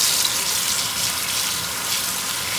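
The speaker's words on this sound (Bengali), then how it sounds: "পুঁই শাকগুলো এরকমভাবে ধুয়ে নিই" Malabar spinach leaves washed by hand in water, a steady close splashing and running-water wash without pause, no voices over it.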